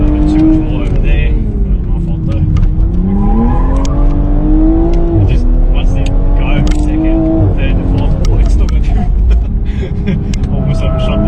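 A car on skinny tyres accelerating and drifting with slight oversteer on a track, its engine note loud and close, rising and falling steadily through throttle changes, with someone talking over it.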